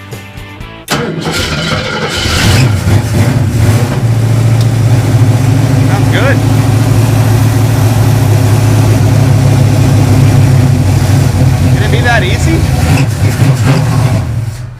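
A car engine cranks and fires, then settles into a loud, steady idle close by while people talk briefly over it.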